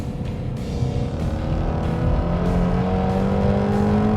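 A Ford Mustang, a Shelby GT350 or Boss 302, revs loudly and close up, its engine note climbing in pitch as it accelerates hard, with a roaring, resonant exhaust.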